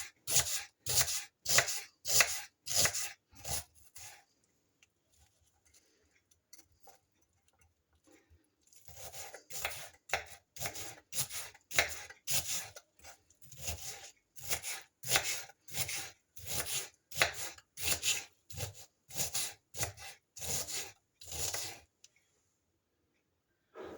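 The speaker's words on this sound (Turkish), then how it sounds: "Bir tane charleston biber, bir tane kapya biber ve şimdi hepsini doğruyorum" Rapid, rhythmic knife chopping of onion and Charleston and red kapya peppers on a board comes in two long bursts of quick strokes, separated by a short quieter stretch of lighter cuts.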